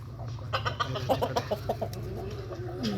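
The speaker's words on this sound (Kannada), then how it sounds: "ಇಲ್ಲೊಂದು 4-5 ಕೋಳಿ ಇದೆ." Four or five backyard hens cluck close by in a quick run of short, bright calls, then trail off into softer murmurs over a low steady hum.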